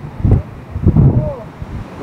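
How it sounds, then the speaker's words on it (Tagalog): Strong gusts of wind buffet the microphone on a high Philippine mountain top near 2,928 meters, coming in two heavy low rumbling bursts with calmer gaps between them. "Pabugso-bugso yung hangin niya"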